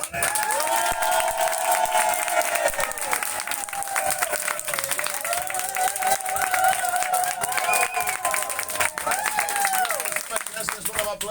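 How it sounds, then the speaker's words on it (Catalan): A radio studio audience in Barcelona claps and cheers loudly and continuously, with shouts and whoops rising over dense applause. Excited voices call out throughout. "Ara aplaudiu i crideu ben fort, sisplau"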